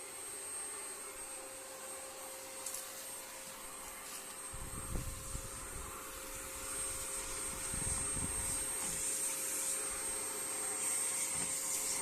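A vacuum cleaner runs inside a car during cleaning, a steady whining drone with a high tonal hum, joined midway by heavier rumbling bursts as the nozzle works against surfaces, fairly quiet throughout.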